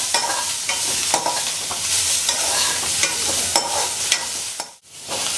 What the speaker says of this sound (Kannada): ಸ್ವಲ್ಪ ಬಿಸಿ ಆಗಬೇಕು ಚೆನ್ನಾಗೆ ಈ ಥರ ಎಲ್ಲನೇ ಹುರ್ಕೋಬೇಕು